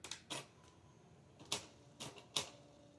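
Sharp mechanical clacks in an irregular sequence, a few quick strikes spaced apart like a small typewriter printing characters, from an EP44 thermal teletype typewriter printing.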